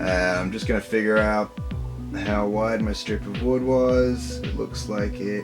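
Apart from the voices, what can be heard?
None of the usual background noises is heard.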